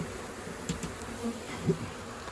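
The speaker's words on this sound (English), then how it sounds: "We'll show you all the bees inside here all clustered up." A cluster of bees in a shed buzzes softly in a low, steady drone, with a few closer passes rising briefly above the hum.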